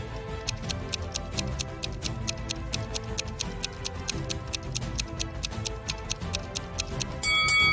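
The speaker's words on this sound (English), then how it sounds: "the timer goes on ticking" A puzzle countdown timer ticks steadily at an even, quick rhythm, crisp and close, running alone until a brief swell of other sound at the end.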